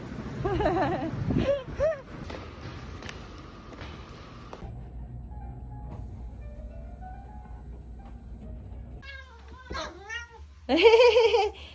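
A house cat meows near a riverside park, several rising and falling cries at the start and a louder, drawn-out meow at the end, with a person speaking in between.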